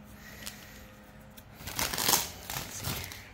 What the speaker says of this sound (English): yeah, nope, I'm gonna have to use scissors the whole way.